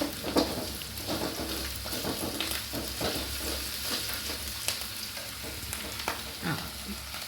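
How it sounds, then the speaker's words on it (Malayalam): Garlic fries in hot oil for a homemade carrot pickle, giving a steady, close crackling sizzle broken by the soft scrapes of stirring, with no talking. "വെളുത്തുള്ളി മൊരിഞ്ഞു വന്നിട്ടുണ്ട്."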